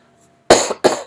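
Two quick coughs into an elbow, close and muffled, the second following shortly after the first.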